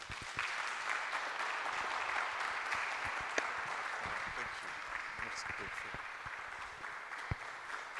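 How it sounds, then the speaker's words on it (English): Applause from a church congregation at Christ the King, Cantonments, a steady broad wash of clapping at moderate distance, continuing evenly throughout with faint background murmur. "deserves a bigger round of applause"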